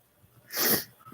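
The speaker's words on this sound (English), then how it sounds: "I don't know what's making me sneeze, but it sucks." A single sharp sneeze up close, with a quick intake of breath before it and quiet afterward.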